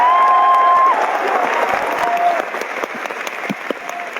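Audience at an RCM Rupantaran Yatra event applauding, a dense steady clatter of clapping hands from a large crowd, loud at first and easing slightly, with a faint voice over it.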